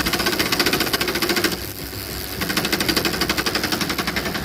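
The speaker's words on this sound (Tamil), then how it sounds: "வண்டி ரோலிங்கில் இருக்கும்போது வர சவுண்டை பாருங்கள்." A Pulsar motorcycle's engine, rolling along with clutch judder, gives a steady close, rapid knocking rattle over a low rumble, dipping briefly midway before resuming at full strength.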